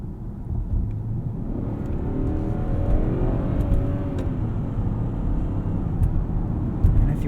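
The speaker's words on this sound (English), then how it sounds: "lets the engine ride out that torque band." A 2020 Genesis G90 5.0 Ultimate RWD with its V8 and 8-speed gearbox accelerates, heard from inside the cabin as a steady low engine drone with a faint rising tone beneath road and wind roar.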